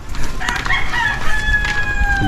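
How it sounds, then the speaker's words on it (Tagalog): A rooster crows in a remote rural place, a loud, close, drawn-out call that rises and trails off over steady outdoor background noise, with no talking. "Manok oh."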